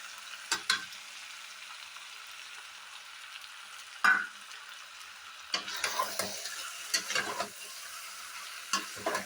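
Yogurt frying in a pan for veg dum biryani, with fried paneer and cashews in it, stirred with a spoon: a steady sizzle hiss under several sharp scraping stirs and clinks spaced through the clip.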